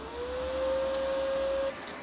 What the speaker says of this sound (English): the drive roller here is feeding the wire through the mechanism and into the gun.